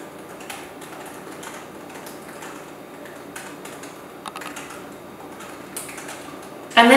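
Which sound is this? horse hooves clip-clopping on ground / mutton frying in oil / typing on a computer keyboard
typing on a computer keyboard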